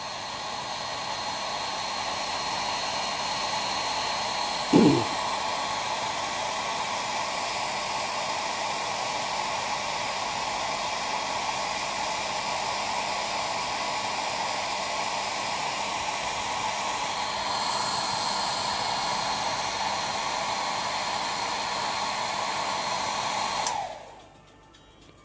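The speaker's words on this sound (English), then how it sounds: "If I heat this up with a hairdryer, what happens to the jitter?" A steady, loud hair dryer blows continuously with a brief thump early on, then cuts off near the end as the whir winds down.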